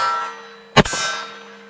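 A rifle round strikes an MGM coyote steel target at a shooting range with one loud, crisp metallic clang that rings briefly, set against a constant humming background.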